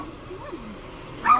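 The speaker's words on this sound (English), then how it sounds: "Here are the four puppies, guys. Okay, they're little Chihuahua." Little Chihuahua puppies from a litter born to a dog living outdoors in a park give soft, faint yips and whimpers, ending in a brief louder squeal.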